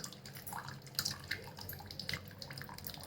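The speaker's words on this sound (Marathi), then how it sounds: "ते पाणी निथळत आहे" Quiet, irregular dripping and trickling as water drains from boiled lentils in a pot, with small splashes scattered throughout.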